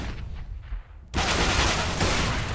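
A flashbang grenade goes off in a tactical shooter match: a sudden loud bang after a quieter stretch of game ambience, followed by a sustained bright ringing hiss that stays loud to the end.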